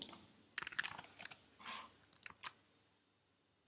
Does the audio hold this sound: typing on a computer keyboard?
yes